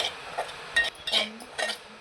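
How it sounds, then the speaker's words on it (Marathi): A spoon scrapes and clinks against a pan in short irregular strokes as semolina is roasted over low heat, quiet between strokes. "रवा सतत हलवत राहायचा गॅसची फ्लेम अगदी बारीक ठेवायची"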